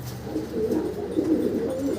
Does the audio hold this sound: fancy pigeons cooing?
yes